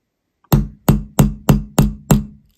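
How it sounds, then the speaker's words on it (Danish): Six sharp, evenly spaced blows of an ordinary hammer driving a snap fastener button into ash wood, each crack ringing briefly and decaying before the next, loud and close with no talk. "Og så slår jeg her med min helt almindelige hammer"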